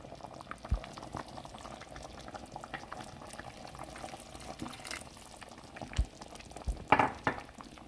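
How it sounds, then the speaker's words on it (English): Water is added to a pot of simmering fideo soup, giving a soft, continuous bubbling and liquid churning with a few small clinks, quiet and without talk. "I'm going to go ahead and add just a little bit more water."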